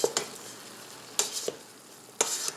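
Garlic and green onion sautéing in a pan for beef broccoli, stirred in three short bursts of scraping over a faint steady sizzle, close and fairly quiet.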